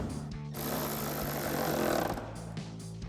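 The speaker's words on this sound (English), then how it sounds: "take our 10mm socket to tighten that down" A powered socket tool tightens a 10mm bolt on a 2018-2020 Ford F-150 headlight in one quiet, rattling burst of about a second and a half, with faint handling noise before and after.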